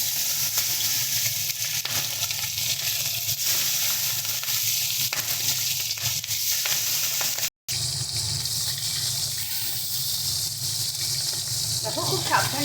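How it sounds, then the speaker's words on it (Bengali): Tengra fish frying in hot oil in a wok, a steady loud sizzle running throughout with a brief cut midway and some stirring clatter near the end. "এক এক করে মাছ দিয়ে ভেজে নেব"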